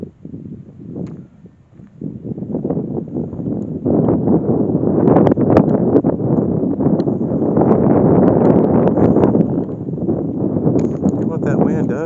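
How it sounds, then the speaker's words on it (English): Wind gusting across an open outdoor area at an aviation museum in Wichita, Kansas, a steady broadband rush that swells after the first few seconds and holds loud and close, buffeting the microphone. "What that wind does feel good out here today"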